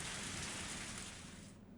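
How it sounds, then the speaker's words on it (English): Rain falls steadily on a small path in the woods in the visual novel Higurashi, a constant soft hiss that fills the scene and fades out abruptly near the end. "There's no place nearby to take shelter from the rain."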